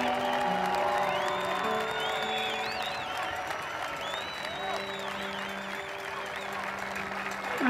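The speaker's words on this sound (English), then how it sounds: "let's have a loud round of applause for our favorite football coach, Bob Forrest." A crowd gives a long, sustained round of applause and some cheering for a football coach retiring after 44 seasons, heard at moderate distance with steady tonal sounds beneath.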